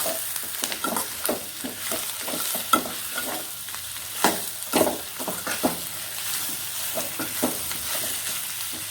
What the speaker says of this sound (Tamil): நல்லா ஒரு 5 நிமிஷம் எண்ணெயிலே வதக்கிட்டு